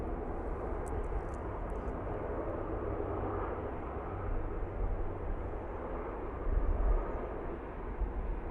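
An Isle of Man livery propeller airliner arriving at Manchester Airport, heard as a steady broad engine roar with a low rumbling drone that swells slightly near the end, with no voices.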